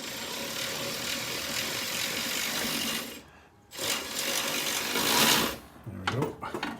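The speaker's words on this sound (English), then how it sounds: "So I'll loosen the rest of it off with my ratchet on this end." A ratchet loosens a bolt on a Jeep JK 3.8L V6 engine during removal, heard as rapid, close mechanical clicking that runs steadily, stops briefly, then resumes before tapering off.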